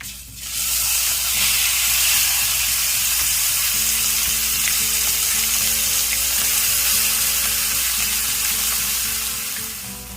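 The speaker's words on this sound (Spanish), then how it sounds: "Vamos a ir agregando ahora nuestra carne. Ya han pasado 10 minutos. Es momento de empezarla a agregar y sellarla." Meat searing in a hot frying pan, giving a loud, steady sizzle that starts abruptly and holds for several seconds, broad and hissing with a low hum underneath.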